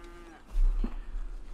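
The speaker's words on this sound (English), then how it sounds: "Cows are making all type of noise. Mooing." Cows mooing in the video game Red Dead Redemption 2, a single close, loud low moo swelling midway through a short stretch of quiet ambience.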